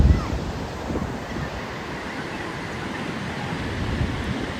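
Waves wash steadily onto Vayari Beach in Malvan in a continuous roar, with wind buffeting the microphone.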